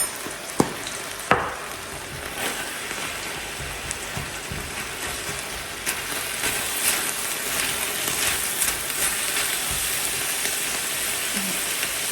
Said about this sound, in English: I'm gonna stir the meat